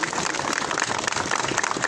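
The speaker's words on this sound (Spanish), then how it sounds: "Demos un fuerte aplauso a ese equipo." A crowd applauds steadily for a team at an Ecuadorian public event, dense close clapping sounding almost like heavy rain, with no voices standing out.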